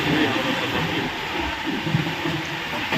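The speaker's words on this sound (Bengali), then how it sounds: "ক্রস করছে 12278 হাওড়া শতাব্দী এক্সপ্রেস।" Howrah Shatabdi Express 12278 passing on an Indian railway line, a loud, steady, broadband rush and rumble of the train going by close, with faint rhythmic wheel clatter throughout.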